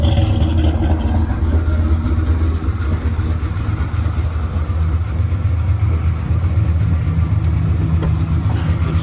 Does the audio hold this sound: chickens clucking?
no